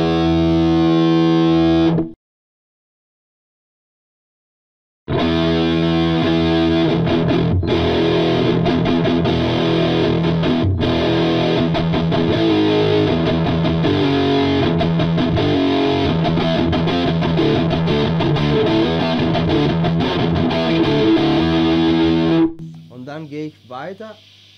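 Heavily distorted electric guitar through a Meddle amp plays a sustained, buzzy, muffled passage. It starts with a brief burst, pauses, then comes back in a long, dense stretch.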